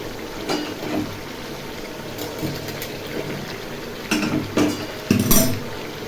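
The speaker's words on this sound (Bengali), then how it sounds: "যে আলুগুলো ভেজে রেখেছিলাম ওই আলুগুলো এবার দিয়ে দেবো।" Fried potatoes go into a pan of chicken achari and get stirred, making clattering scrapes of a utensil against the pan, intermittent and close, with louder bursts of clinking toward the end.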